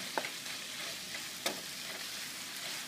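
Quinoa frying and sizzling in a pan while being stirred, a steady close hiss with a few sharp scraping clicks of the utensil, no voices.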